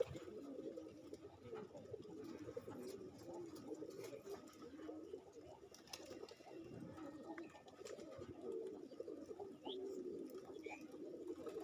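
Pigeons of several colours coo steadily in a low, continuous warble at close range. A few faint chirps rise above the murmur, with no clear speech.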